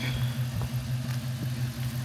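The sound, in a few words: Dodge Magnum engine with new exhaust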